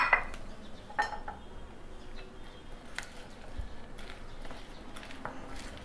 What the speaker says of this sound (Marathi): आता मी ह्याच्यात अगदी थोडे थोडे असे मशरूम ॲड करत आहे.